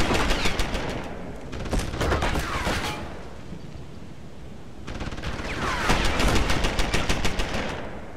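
Hacked security turret in Deus Ex: Human Revolution firing sustained automatic bursts, two long rattling volleys separated by a short lull, loud and close amid gunfire ambience.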